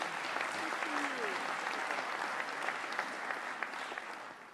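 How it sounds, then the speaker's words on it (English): Attendees at a county cabinet meeting applaud an award recipient, a steady, moderately faint patter of clapping that holds evenly and tapers slightly at the end. "But let's give Roy a round of applause."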